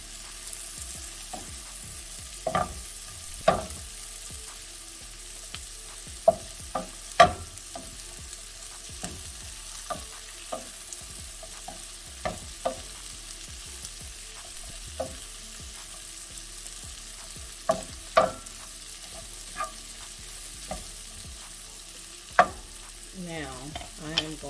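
Sweet peppers sauté in a hot pan with steady sizzling and frying. Repeated sharp clacks and scrapes from stirring rise over it at irregular intervals, close and moderately loud, with no voices.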